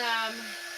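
Heat gun on a Dollar Tree autumn craft project, drying paint before chalking, gives a steady loud blowing whine that holds through the short burst and eases slightly toward the end.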